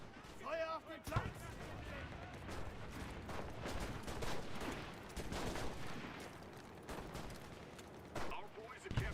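An artillery barrage in a video game sounds as repeated booming thuds and blasts in quick succession, somewhat distant and low in level, with voices speaking over the gunfire.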